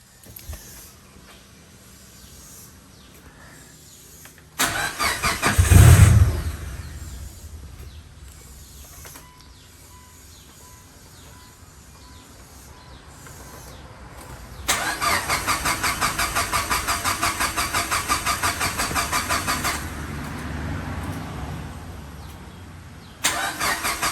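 An 800 bhp tuned Mitsubishi Evo engine cranks and catches with a loud burst, settles into a rough idle, then revs up steadily for several seconds before dropping back.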